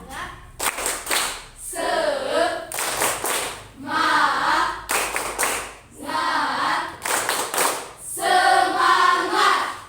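A group performs a spirit clap routine in a classroom-style session. Bursts of loud, rapid clapping alternate with short bursts of chanting voices in a steady repeating rhythm.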